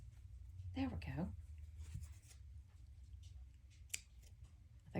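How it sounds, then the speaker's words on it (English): Oversized scissors cut through material for a small journal craft project, a few quiet close snips and rustles in a hushed room, with soft talk between. "I think I have the world's biggest scissors to do this little project"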